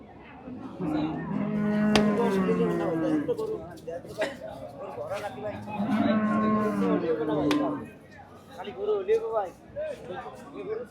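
Cattle moo loudly and repeatedly at a traditional livestock market in Cumilla, with long drawn-out lowing calls close by and a crowd's chatter in the background.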